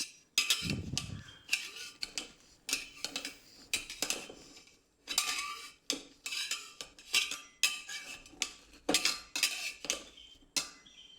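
Metal utensil scraping and clinking around the sides of a cooker pot to loosen a cooled Malabar kalathappam, a steady run of sharp, close scrapes and taps with no talk.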